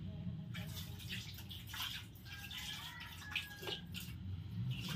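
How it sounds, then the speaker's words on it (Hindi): Water runs and splashes while hands are washed after a meal outdoors, a steady trickle with small drips and splashes, fairly faint against background noise. "अब धोते हैं"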